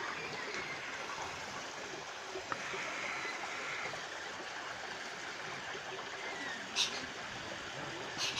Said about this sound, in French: Il y a des cascades d'eau.